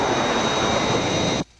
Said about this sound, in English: Aircraft approaching glide path.